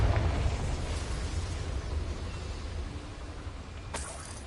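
A Confringo spell explosion in the video game Hogwarts Legacy, a broad rumbling burst that decays slowly, followed by a sharp crackling pop near the end, with no voice over it.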